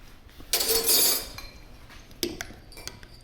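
A spoon scrapes and swirls through a thick blueberry dirt smoothie in a glass, then gives two sharp, close clinks against the glass after a short pause.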